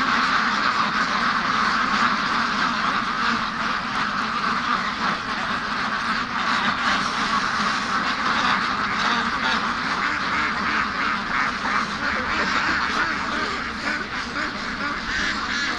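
A flock of free-range ducks quacks steadily and close by outdoors, a dense, continuous chorus of calls heading toward a lake.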